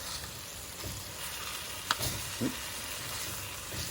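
Osso buco pieces brown in a hot frying pan, giving a steady close sizzle with crackling spits and a couple of brief clatters as the meat is handled.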